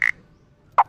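Two short croaking calls made with a plastic cup, imitating a frog: one at the start, one near the end, separated by quiet.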